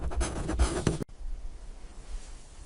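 Pencil drawing on paper, close scratchy strokes in quick bursts for about a second, then an abrupt cut to quiet room tone.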